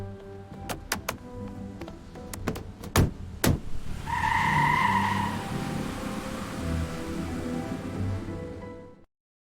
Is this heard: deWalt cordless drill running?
no